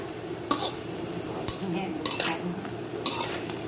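Peas, carrots and macaroni stir-fried in a pan, with a steady sizzle under a few sharp spatula scrapes and clanks against the metal, close up and with no talking.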